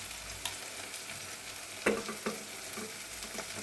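Stuffed pointed gourd fritters coated in a rice-flour, turmeric and pepper batter fry in hot oil with a constant close sizzle, broken by a few sharp scrapes and knocks of stirring.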